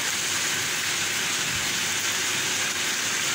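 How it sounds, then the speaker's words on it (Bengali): Rainwater pours steadily from a pipe at a village house during a downpour, making a continuous, loud, even rush of splashing water with no voices. "পাইপ দিয়ে পানি পড়তেছে।"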